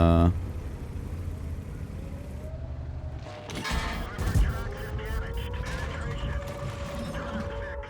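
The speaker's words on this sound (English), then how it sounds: "So this T-57 just fired 2 shots" A T-57 tank fires two shots in World of Tanks: booming cannon reports around the middle of the clip, set against a steady mechanical battle drone with creaking tank machinery.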